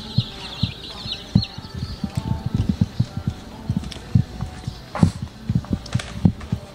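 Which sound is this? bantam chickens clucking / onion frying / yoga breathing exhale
bantam chickens clucking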